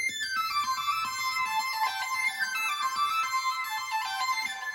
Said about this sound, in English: I put these synths, this kind of like cascading line